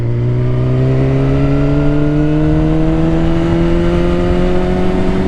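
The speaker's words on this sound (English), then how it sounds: "Click up the second gear, and then pull on the throttle again." A Suzuki GSX-R 600 motorcycle engine drones steadily and loudly, its pitch rising smoothly as it accelerates under throttle, close and continuous with no voices.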